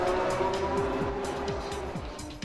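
A continuous Porsche GT3 RS engine roar in a modded racing game, with repeated rapid gear-change sweeps and a high whine, loud and steady throughout.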